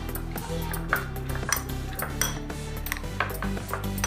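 Egg and shredded cabbage are stirred together in a bowl for a cabbage omelette, the utensil clinking and scraping against the bowl in steady, fairly loud strokes with sharp pings, over a low steady background hum.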